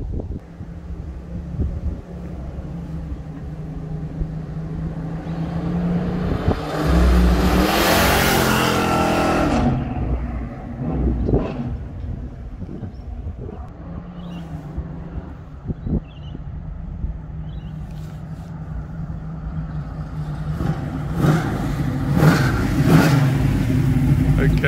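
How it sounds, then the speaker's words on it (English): A 1969 Dodge Charger General Lee replica revs up loudly around the middle, its engine rising and falling, with wind buffeting the microphone and a voice speaking over the idle before and after. "Okay, let's go for a drive."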